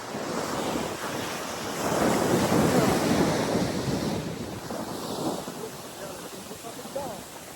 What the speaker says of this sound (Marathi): समुद्राच्या लाटा.